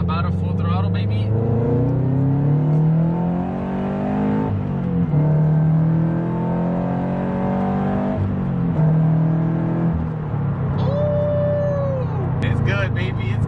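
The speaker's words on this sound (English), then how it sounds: "All right, I'm in second gear, about a full throttle, baby." Toyota 86 with its Subaru flat four-cylinder engine pulling at full throttle in second gear, a loud, steady, rising engine drone heard close up throughout, with someone talking over it.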